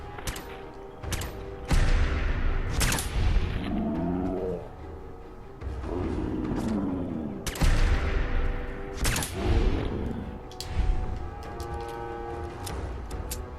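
Gunfire in Fallout 4 comes as sharp, loud shots and short bursts spaced through the fight, mixed with deep creature roars and growls between them.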